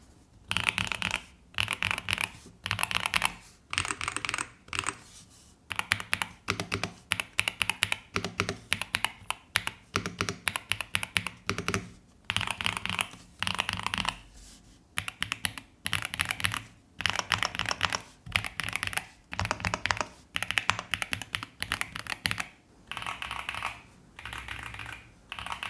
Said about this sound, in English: now let's hear the sound of typing.